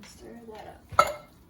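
A spoon stirs salsa chicken ingredients with diced tomatoes and preserves in a pot, soft scraping followed by one sharp metallic clink, close by, with a voice speaking briefly.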